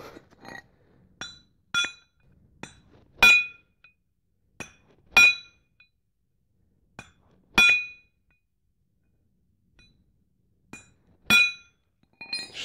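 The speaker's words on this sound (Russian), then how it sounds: "Берем выколотку." Sharp, ringing metallic strikes of a hammer on a drift punch, knocking out clutch pins on a Ural motorcycle. About a dozen isolated blows come at irregular intervals with silence between them, a few louder and brighter than the rest.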